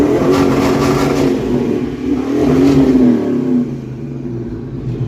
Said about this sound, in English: Got a little bit of backfiring through the carburetor, but it sounds good, buddy.